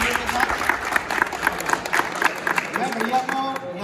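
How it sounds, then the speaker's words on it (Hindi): Students at an inter-college event give their principal loud, continuous applause, a crowded rattle of clapping hands with voices mixed in beneath. "उनका अभिवादन करें, उनका अभिनंदन करें जोरदार तालियों के साथ।"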